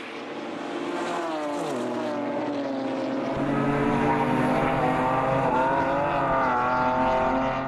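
Several BMW club race cars roar past on a circuit during a lap-two race, engine notes rising and shifting steadily and loudly throughout, with no talk.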